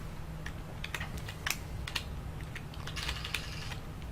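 Computer keyboard keys clatter during Chibi-Robo gameplay, with irregular, moderately close clicks and a quicker burst of presses near the end.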